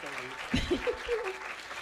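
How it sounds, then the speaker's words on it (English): A comedy show audience gives a round of applause, a steady rush of clapping heard under a speaking voice and a little laughter. "All right, everybody, give Dan a big round of applause."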